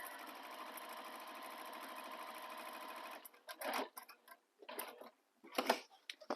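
A sewing machine runs steadily for about three seconds, stitching quilted panels for a bag, then stops and gives way to a few short bursts of handling and fabric movement.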